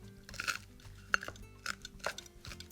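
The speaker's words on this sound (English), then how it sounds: "that crunching and cracking is the skin on the garlic breaking, which is actually peeling it for you" Garlic cloves being crushed under pressure, papery skins crunching and cracking in a few short bursts on a kitchen surface, close and moderately quiet, with light knocks between the cracks.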